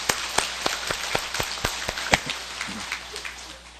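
Sharp, crisp handclaps from a church congregation at a Christmas service, in a fairly regular rhythm, loud and close at first, thinning out and growing quieter toward the end.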